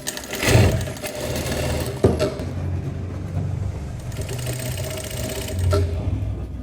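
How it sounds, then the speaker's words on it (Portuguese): A close sewing machine hums in a steady run as it stitches a lace skirt's lining in place, with a few clicks and handling sounds and a brief pause midway. "eu vou costurar e vou anexar e tornar uma peça só"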